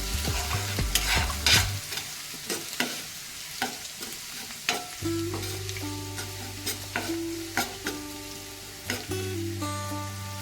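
Garlic sautés in a pan for prawn masala, sizzling and crackling while a spatula scrapes and clicks in irregular strokes; a low steady hum runs underneath through the second half.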